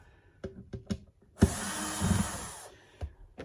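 Power drill with a PZ2 bit driving screws into a Positive Grid Spark 40 amp's speaker, one close, buzzing whirr lasting about a second amid light clicks and handling knocks.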